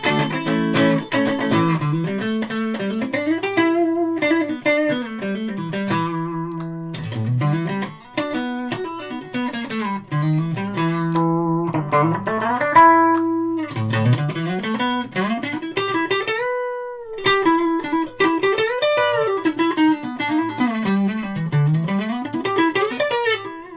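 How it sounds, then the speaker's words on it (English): Gibson Les Paul electric guitar with its phase switch engaged, played as a continuous riff of chords and single-note lines, bright and jangly with mild overdrive, loud and close with no talking. "With the phase on. I mean, it's not like a pure ridiculous, stomping around a distortion pedal sound, but it definitely does give it more air and jangle."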